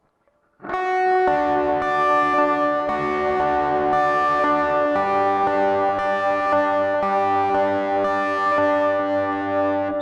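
Electric lead guitar playing the second chorus part of a song, with distortion and effects, sustained ringing notes shifting every second or so, loud and continuous with no talking.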